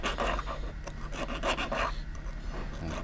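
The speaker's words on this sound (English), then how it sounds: "I'm actually using this little rat tail file" A small rat tail file rasps against a machined gear tooth to clear a burr, giving a close, continuous scraping with quick back-and-forth strokes and no talking.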